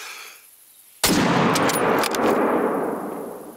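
Single rifle shot at a warthog in the hunting game theHunter: Call of the Wild, a sudden loud crack after a quiet moment, followed by a long rolling echo that fades slowly.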